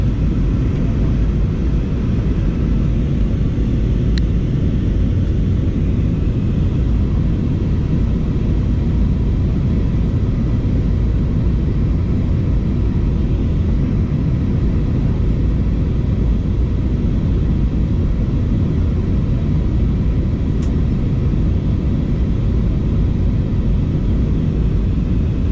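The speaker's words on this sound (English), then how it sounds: "So for the next few minutes, just enjoy the flight." Steady, loud low-frequency roar inside an SAS airliner cabin in flight, a constant engine and airflow drone with no variation throughout and no speech.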